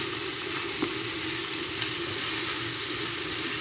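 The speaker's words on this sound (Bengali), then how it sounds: "লবণটা দিয়েও এটাকে আমি একটু নাড়াচাড়া করছি।" Chicken frying in a pan after salt is added, a steady close sizzle with a couple of soft scrapes as it is stirred, and no voices.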